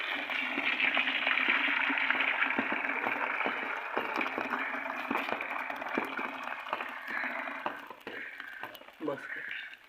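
Water pours and gushes out of a pot of cooked rice as it is drained, a steady splashing stream that tapers off into uneven trickles and drips toward the end.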